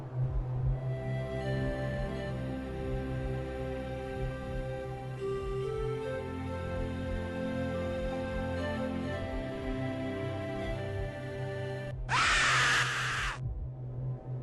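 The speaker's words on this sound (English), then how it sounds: "accompanied by a loud and terrifying shriek" A loud, terrifying shriek from a scary prank video bursts in suddenly near the end, a harsh broadband scream lasting about a second and a half over a steady background of droning music.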